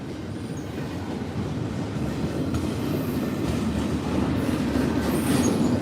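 A CSX intermodal freight train rolls past close by, giving a continuous loud rumble of wheels on rail with clattering and faint squeals that swell slightly toward the end.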